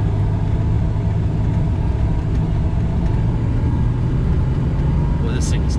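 A 2005 Dodge Ram 3500 4x4 dually pickup with the Cummins 5.9L diesel drives along, its engine giving a steady, heavy low rumble heard from close by.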